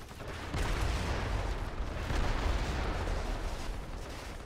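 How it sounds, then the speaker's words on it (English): Rocket launcher fire and explosions in the shooter game Crysis, a sustained loud barrage of booming blasts and rumble lasting throughout, with no voices. "Oh, well, I have a rocket launcher."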